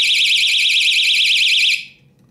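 A homemade battery-powered fishing tip-up alarm shrieks with a loud, warbling high-pitched electronic tone for nearly two seconds, then cuts off, leaving faint room noise.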